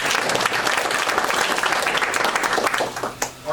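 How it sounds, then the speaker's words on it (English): Crowd applause at a Christmas party held at GOP headquarters, loud, dense clapping filling the room without a break and tapering slightly at the end. "Give him applause."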